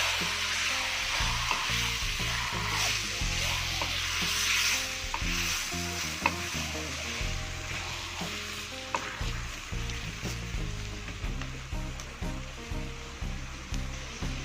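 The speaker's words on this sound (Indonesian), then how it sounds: "Kita aduk hingga merata." Ayam bakar seasoning sizzles steadily in a hot pan while a spoon stirs it, the frying hiss continuous and close, with repeated scraping strokes growing more rhythmic toward the end.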